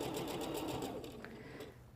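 A sewing machine stitches quilt pieces in a quiet room, its needle running in a fast, even patter, soft and close, with no talk.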